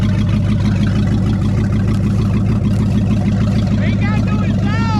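A 1959 Ford Galaxie's 352 V8 running with no exhaust hooked up, a loud, close, steady rumbling idle with a rapid pulsing beat; a voice talks faintly over it.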